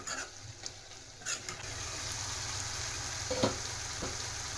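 Cauliflower and green peas sizzle steadily as they fry in a pan, close and continuous, with light scraping and tapping from stirring.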